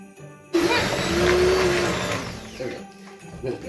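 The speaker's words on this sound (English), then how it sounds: "And now we can mix together the ingredients." An electric mixer whirs loudly as mince pie ingredients are combined, starting abruptly, holding a steady drone for about two seconds, then cutting off and leaving quieter handling clatter.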